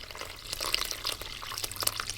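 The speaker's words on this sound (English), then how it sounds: "Gonna add some water." Water splashes and trickles steadily into a bowl of masa harina and salt for tortilla dough, a close, continuous pour with small drips and no talking.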